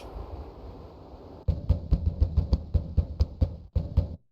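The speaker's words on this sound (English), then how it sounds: "Graham pounds on the door, but he finds it bolted from the inside" Graham pounding on a bolted wooden door in the adventure game King's Quest V: about a dozen heavy, evenly spaced knocks over a faint background hum, ending abruptly.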